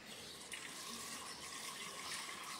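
A steady, faint stream of drinkable water runs from a public drinking fountain spout outdoors, an even hiss and splash with no pauses and no talk.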